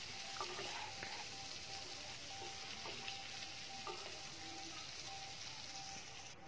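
Cauliflower florets fry in a pan of oil for a Bengali vegetarian kalia, giving a soft continuous sizzle with faint crackles, steady and fairly quiet throughout.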